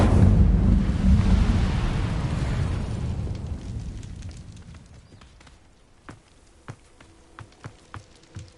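The Incendio fire spell in Hogwarts Legacy roars up as a loud, broad whoosh of flame that slowly fades over several seconds, followed by a few faint, sharp clicks and taps.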